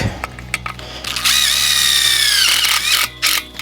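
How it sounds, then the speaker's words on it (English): A power drill drives a Tech screw into the channel of a Caterpillar high tunnel greenhouse kit near the peak, giving a sustained, loud rising whine of about one and a half seconds after short bursts, then brief follow-up spins. "put another Tech screw in up close to the peak"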